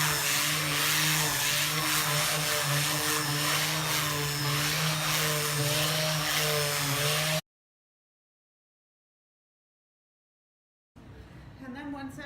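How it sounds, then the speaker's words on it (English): A hand-held power sander sanding a wood board whirs with a steady, loud motor drone and a gritty rasp for several seconds, then cuts out. After a silent gap the noise starts again. "got my just hand sander, so I'm going to go ahead and turn that on and start sanding"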